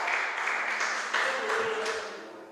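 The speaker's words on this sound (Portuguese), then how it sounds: "Aplauda o Senhor aí por essa palavra." A church congregation claps for the Lord after a sermon, sustained applause with overlapping voices and cheers mixed in throughout.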